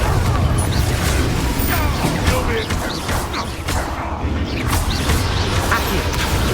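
A Confringo spell goes off in the Hogwarts Legacy video game, giving loud, booming blasts that thud through dense, continuous combat noise.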